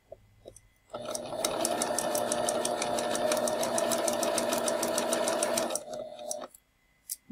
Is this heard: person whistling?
no